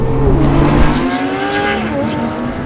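Engines of a Porsche 911 GT3 and a 911 Turbo S rise in pitch as they launch in a drag race, a loud, close, climbing roar with overlapping tones for under three seconds.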